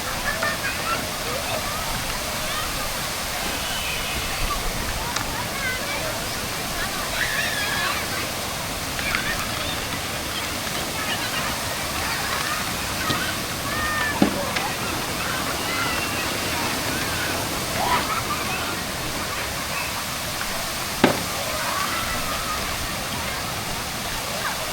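A water cascade fountain in the Alnwick Castle garden rushes and splashes in a steady, loud wash of falling water, with people talking nearby.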